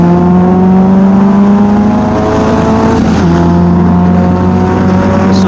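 A Caterham SuperSport race car launches at the start of a race at Sepang Circuit, its engine loud and close as it revs hard and holds a steady high drone, with a brief dip during a gear change midway.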